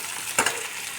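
Onions fry in a pan while a fish-head dal is cooked, with a steady soft sizzle broken by one brief stirring clatter near the middle.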